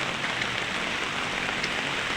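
Heavy rain falls outdoors, a dense, even hiss of drops on surfaces, steady and moderately quiet with no voices.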